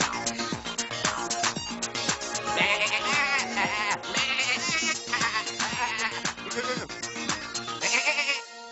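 Sheep bleat several times in close succession over steady background music.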